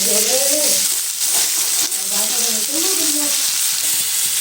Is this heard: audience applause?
no